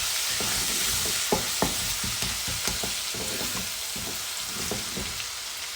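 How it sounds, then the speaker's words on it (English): Ginger and garlic frying in oil with fresh curry leaves for a prawn coconut curry, a steady close sizzle with light stirring scrapes and small pops throughout, no voices. "while the ginger and garlic is cooking"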